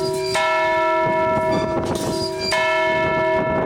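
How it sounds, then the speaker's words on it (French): An 850 kg church bell rings in a belfry campanile 26 metres up, heard from close by with loud, sustained metallic strikes whose overtones ring out and decay between repeated blows. "Nous voilà perchés à 26 mètres dans le campanile qui porte la cloche que nous apercevons. Elle pèse 850 kg, elle sonne toutes les demi-heures."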